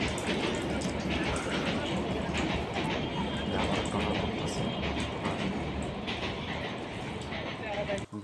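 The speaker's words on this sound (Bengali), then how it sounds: "ওই যেখানে একটা ট্রেন যাচ্ছে অনেক জোরে যাচ্ছে ট্রেনটি" A fast express train crossing a railway bridge in Tongi, Gazipur, makes a loud, continuous rumble and rattle of wheels and carriages close by, with a voice talking over it.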